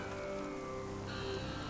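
Steady rain falls, a soft even hiss with no breaks, fairly quiet and continuous throughout.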